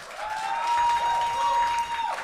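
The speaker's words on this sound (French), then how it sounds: "On l'applaudit encore une fois." Applause from a studio audience on a French-language talk show after a singer's performance, moderate clapping under a sustained musical tone that swells and then fades.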